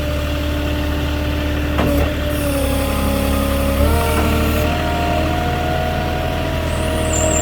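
A forklift engine runs close by at a steady idle with a low droning rumble, while tonal whines rise and shift as it works, continuous with no talk.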